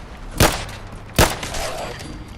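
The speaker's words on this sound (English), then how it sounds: "I'm going to try to shoot it quickly regardless of the fact that it's not." A Webley Fosbery autorevolver is hip-fired in Fallout 4, giving two loud, sharp shots about a second apart over constant game background noise.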